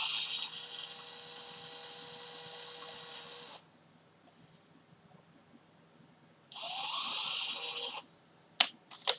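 A small drill bit bores an air hole through a plastic dripper bottle, giving two bursts of high, whining drilling separated by a pause, then a few sharp clicks at the end.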